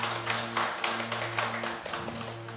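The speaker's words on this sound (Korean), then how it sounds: "다시 한번 두 분께 감사의 박수 부탁드리겠습니다." A lecture audience gives a short round of applause. The clapping is fairly faint and somewhat uneven over a steady electrical hum.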